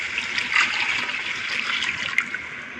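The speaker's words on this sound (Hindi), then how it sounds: "5 गिलास पानी डालने जा रही हूँ" Water pours steadily into a pot for chana pulao, a continuous splashing gush close by, with no voices.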